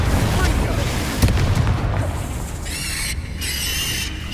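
A Confringo fire-blast spell from the Hogwarts Legacy video game lands as a low, rumbling boom around the one-second mark, followed by a sustained explosive roar and bright magical shimmer over a continuous game soundscape.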